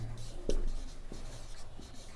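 A pen scratching on paper while solving a maths problem about circles, with a few short strokes and one firmer mark, recorded close with a teacher's voice and room noise around it.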